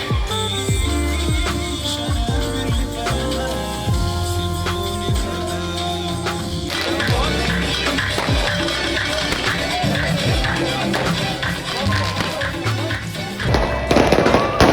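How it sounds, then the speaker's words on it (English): Fireworks burst without a break over rooftops across a neighborhood during New Year's Eve in Egypt, with many sharp bangs and crackles from near and far layering into a dense, chaotic barrage that keeps building. "every rooftop in the area lit a full arsenal of fireworks, and there was a huge, chaotic, unchoreographed show"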